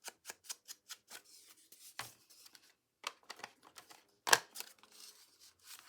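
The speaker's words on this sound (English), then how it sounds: "die cut some tendrils." A die cutting machine works through paper tendrils for a waterfall journal, giving a run of quick, sharp clicks and ticks, then sparser mechanical taps with a louder snap near the end, close and quiet with no talk.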